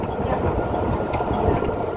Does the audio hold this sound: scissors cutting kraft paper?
no